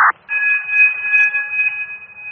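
Building basement alarm heard over a fire department radio, a steady high electronic tone holding unbroken after a brief radio burst at the start, thin and slightly wavering.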